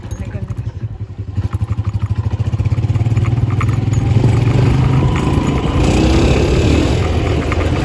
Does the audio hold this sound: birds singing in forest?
no